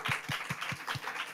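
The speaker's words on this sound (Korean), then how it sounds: "영광의 박수 한번 올려드리겠습니다." Church congregation at a Wednesday worship service clapping in a short, evenly spaced rhythm of about five or six claps, fairly soft and slightly distant.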